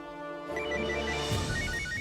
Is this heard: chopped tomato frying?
no